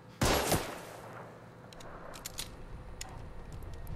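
Sniper fire in the video game The Order: 1886 opens with one sharp, loud shot. Its crack rings briefly, then a few fainter clicks and impacts follow at medium distance.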